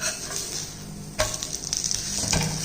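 Roti cooking in ghee on a hot pan, giving a steady close sizzle and frying crackle with a brief scrape or stir partway through.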